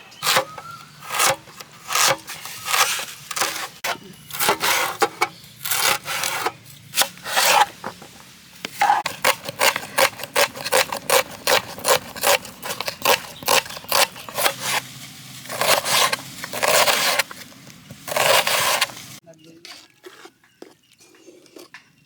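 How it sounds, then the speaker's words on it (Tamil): Vegetables being cut for Maggi Manchurian in a village outdoor kitchen, a steady run of close, crisp knife strokes and scraping, rhythmic and repeated for about twenty seconds before trailing off into a few sparse taps. "நம்ம வந்து அதுக்குள்ளே வந்து காய்கறியெல்லாம் நறுக்கி எடுத்துக்குவோம்"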